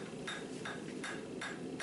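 A hammer flattening a forged steel tomahawk made from a farrier's rasp, four evenly spaced metallic strikes on the anvil, close and clear with no voices.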